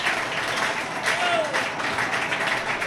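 A crowd at Ninfa's restaurant giving a standing ovation, with steady, dense applause filling the room and faint voices mixed in.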